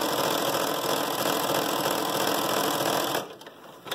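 A sewing machine runs in a steady, fast whir while stitching a fabric face mask holder, loud and close, then stops abruptly near the end.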